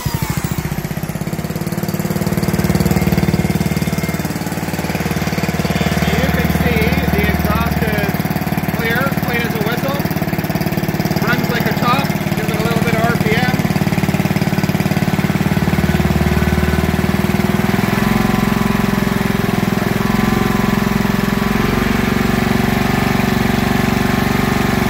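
Club Car FE290/FE350 small engine, cranked with a DeWalt drill acting as the starter, running with a steady loud mechanical drone and vibration throughout, while a person talks over it.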